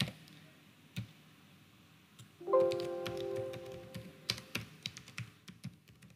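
Keys clicking on a computer keyboard while entering data in an Excel spreadsheet, a scattered run of close taps that picks up toward the end, over a faint steady background hum.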